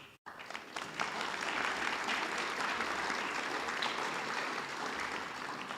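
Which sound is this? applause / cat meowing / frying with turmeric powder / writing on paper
applause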